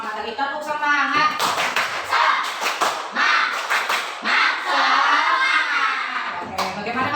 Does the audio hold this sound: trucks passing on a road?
no